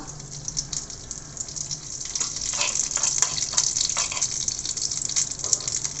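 Steady bright sizzling and crackling of mustard seeds and lentils frying in hot oil, close and continuous, growing a little louder partway through.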